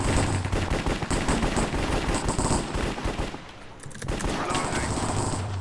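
Dense, rapid automatic gunfire from a Minecraft Cops and Crims match, loud and nearly continuous bursts with a brief lull in the middle before the spraying resumes, no talk.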